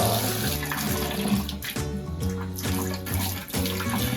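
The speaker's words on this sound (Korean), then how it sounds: "그래서 이렇게 큰 통을 기울여서 졸졸 흘러들어가게 만듭니다." Water from a running tap trickles into a large tilted tub in a bathroom, where salmon soaks to draw out its salt. The flow is a close, steady wash with no pauses.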